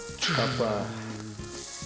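Onion hits hot oil with a loud, steady sizzle that fills the clip, a short exclamation at the start and clinks of a pan.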